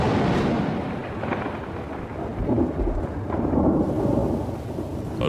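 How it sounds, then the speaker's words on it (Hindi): A thunderstorm over Kakadu: deep rolling thunder rumbles under steady heavy rain, loud and continuous with swelling low booms throughout. "बरसात आ चुकी है।"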